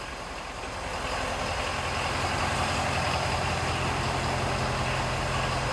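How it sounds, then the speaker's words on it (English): A 2017 Ford F-550 Super Duty diesel truck idles with a steady, moderately loud clattering drone that swells slightly at first and then holds even, with no voices over it. "Nice sounding diesel."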